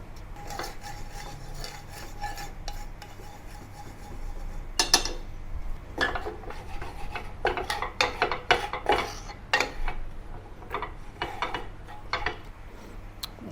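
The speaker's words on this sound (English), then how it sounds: "Mix well, stir fry for another minute" Kolo Mee noodles being tossed and stir-fried in a pan with oyster sauce and sesame oil, giving scattered metallic scrapes and clinks of a utensil over a low background hum, no voices.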